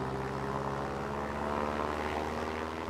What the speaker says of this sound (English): We got the bomber. Bomber's headed out.